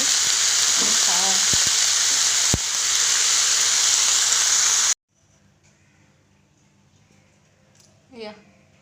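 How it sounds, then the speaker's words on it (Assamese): Banana flower and potatoes frying in a pan in a home kitchen in Assam, a loud continuous sizzle with a few clinks that cuts off abruptly about halfway, leaving quiet room tone and a brief voice near the end. "কলডিল আৰু আলু ভাজি আমি খাওঁ"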